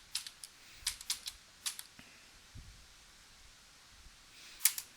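Typing on a computer keyboard while entering a website URL: a quick cluster of light key clicks, a pause, then a few more scattered taps and a sharper final keystroke, close and quiet.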